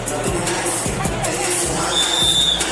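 A large arena crowd at a boxing fight, a continuous broad roar with muffled thuds and scattered cheers running steadily underneath.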